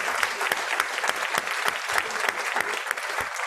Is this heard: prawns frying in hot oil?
no